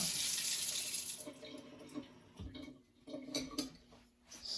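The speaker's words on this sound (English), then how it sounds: "I'm going to add a little bit of water to this and mix it up" Water from a tap runs into dosa batter in a home kitchen, a steady rush at the start that breaks into short splashes and clinks of utensils as it is added and mixed.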